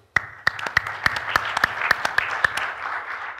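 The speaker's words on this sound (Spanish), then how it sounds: "Un aplauso." A single person claps about a dozen times, sharp and close at an even, steady pace, then stops. A room murmur sits underneath, and the applause follows a prize announcement in a networking tutorial session.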